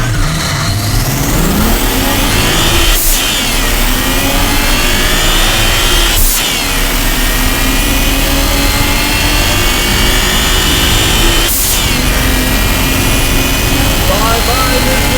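A JB4-tuned BMW 335i with the N54 engine accelerating hard in a drag race against an Audi S4, heard right beside its blow-off valves: a loud, continuous roar rising in pitch, broken by three sharp gear-shift breaks.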